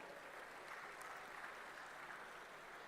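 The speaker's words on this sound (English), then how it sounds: "let's clap for them" Convocation audience clapping for bronze medal winners, a steady dense wash of many hands applauding, heard faintly from a distance with no voices over it.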